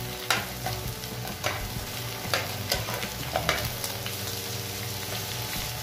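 Chicken thighs and wings sizzle steadily in a pan for paella, with a spoon scraping and stirring in intermittent clinks and scrapes over the continuous frying hiss.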